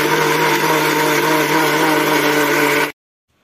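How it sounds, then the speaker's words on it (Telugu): A mixer grinder whirs loud and steady as it blends banana, almonds and peanuts into a milkshake base, motor running flat out for nearly three seconds before cutting off into silence. "వీటిని మిక్సీ పడదాం."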